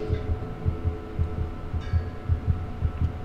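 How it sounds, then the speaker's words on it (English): Heartbeat thuds in the game Among the Sleep, a quiet but regular low double pulse beating over a soft background hum. "I feel like my heartbeat's getting loud."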